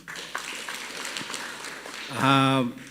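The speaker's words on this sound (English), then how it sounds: "We clap for Elder Doreen." Audience at a Christian education report meeting clapping for Elder Doreen, a spread of scattered hand claps at moderate volume, followed near the end by a voice speaking.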